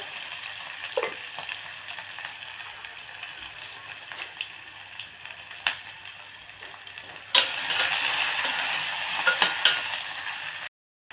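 A paste of green chili, ginger and garlic sizzles steadily in hot oil for masala rice, a constant hissing fry with occasional pops and clicks of stirring, growing louder and brighter partway through.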